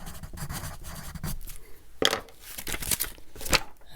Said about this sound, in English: So there's pencil on paper.